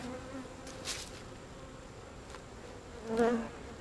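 Bees hum around an opened beehive, a low steady drone near at hand, with a few bees darting close so that a louder buzz swells briefly near the end.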